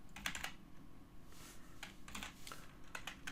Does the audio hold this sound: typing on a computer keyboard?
yes